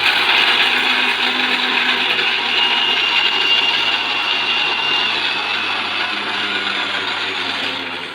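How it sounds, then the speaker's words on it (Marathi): A mixer grinder runs steadily with a loud, continuous high whir that holds at the same level throughout, with no talking over it. "आणि मिक्सर चालवत आहे का?"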